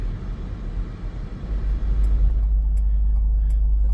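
A billboard truck drives through Canberra, its engine rumble building from a rough, fluctuating drone into a louder, steady low hum, with a few faint clicks over the top.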